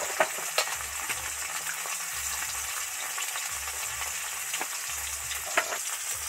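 Sliced okra frying in oil with turmeric and salt gives a constant soft sizzle and crackle, with occasional clicks and light utensil taps and a low rhythmic rumble running beneath, no talking.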